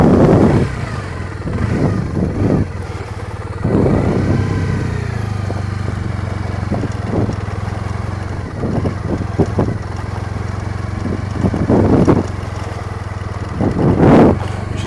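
A 2010 Triumph Bonneville T100 motorcycle rides along at a steady, moderate pace on brand new tyres, its engine a continuous low drone with repeated swells as the throttle opens, close and loud throughout.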